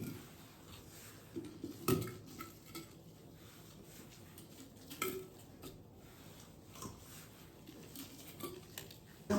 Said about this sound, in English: I'm going to start off by filling the jar with the onions.